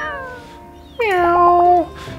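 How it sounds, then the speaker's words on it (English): In the video game My Time at Sandrock, a cat gives one clear, close meow with a quavering, wavering pitch, set against a quiet background. "It's a cat."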